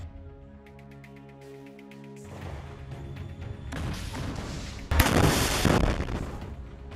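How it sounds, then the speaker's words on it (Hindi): A rocket hits a Merkava tank in Rafah, Gaza: a loud blast erupts about five seconds in, a burst of broadband noise after rumbling, crackling battle sounds, then lingering roar and debris noise. "जैसे ही रॉकेट टैंक में लगता है वहां जोरदार धमाका होता है"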